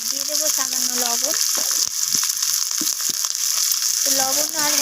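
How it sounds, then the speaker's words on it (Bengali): Raw tomatoes with salt and turmeric fry in oil in a wok, a steady bright sizzle running throughout, with a voice talking over it at the start and end. "তো লবণ আর হলুদটা দিয়ে আমি টমেটোগুলোকে একটু ভাজা ভাজা করে নিচ্ছি।"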